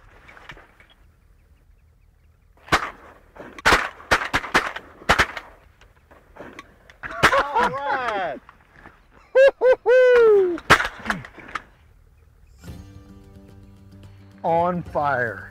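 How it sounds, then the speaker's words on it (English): Several sharp shotgun blasts ring out while teal are hunted in South Texas, a rapid cluster early on, then more scattered reports among shouting voices and a duck call. "Shoot that bird right there. Come on, shoot that bird."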